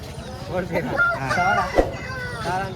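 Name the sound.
fighting roosters at Gokavaram market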